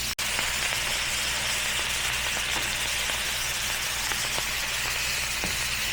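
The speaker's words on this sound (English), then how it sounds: "Listen to that sizzle." Food frying in a hot pan with butter, cooked outdoors in a snowy winter forest: a dense, steady, close sizzle and hiss that continues without a break, with a single sharp knock at the very start.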